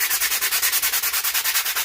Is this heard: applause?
no